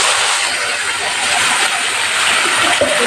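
Ground ginger, garlic, onion and tomato paste for chicken kofta curry sizzles in a hot pan, a steady, loud hiss that runs the whole time with a voice faintly underneath.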